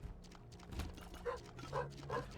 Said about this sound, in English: did you hear the barking?